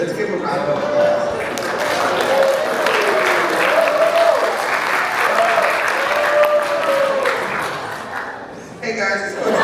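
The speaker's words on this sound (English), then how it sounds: "Let's give them a round of applause" Sustained audience applause fills a school sports banquet hall, a broad wash of clapping with voices calling out through it and some whoops, tapering off near the end.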